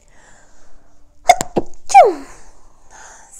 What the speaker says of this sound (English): I've been noticing I sneeze a lot when I channel